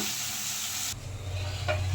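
Pepper chicken sukka cooks covered in a pan, a steady bright sizzling hiss that cuts off abruptly to a low, quiet simmering rumble with a faint crackle near the end; no talking.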